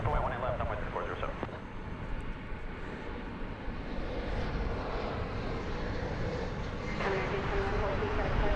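An American Airlines jet takes off from runway 18 left at DFW, making a continuous broad engine roar that swells slightly toward the end, under air traffic radio chatter.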